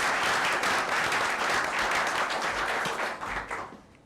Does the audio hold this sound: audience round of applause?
yes